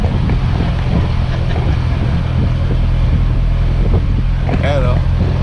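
Strong wind buffets and rumbles across the microphone continuously, loud and close, with an engine drone underneath and a brief voice near the end.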